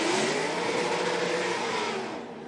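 Drift car engine revving hard on a racing track, a sustained loud, high-pitched whine that holds steady and eases slightly toward the end, with no talk over it.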